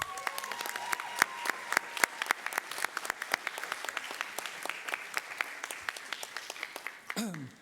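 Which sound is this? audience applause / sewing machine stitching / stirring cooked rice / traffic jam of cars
audience applause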